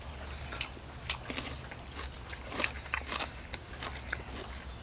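Someone close by chews crunchy food during a meal, with irregular crisp bites and crunches over a low steady background hum.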